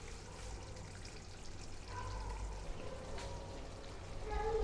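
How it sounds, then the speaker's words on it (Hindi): Rice is poured into chicken biryani gravy in a pot, giving a soft, close pouring and trickling sound over a low background hum that grows slightly louder toward the end. "सो नाउ चावल को हम डालेंगे।"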